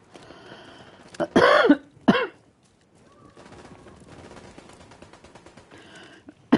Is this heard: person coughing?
yes